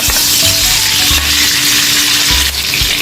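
Desi ghee sizzles loudly and steadily in a hot pan, a dense close frying hiss with a few low knocks from the utensil, no voices.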